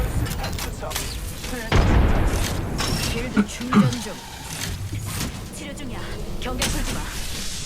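A grenade blast in a shooter game thumps at low level with a few sharp booms around two and four seconds, mixed into dense game noise and ongoing chatter between players.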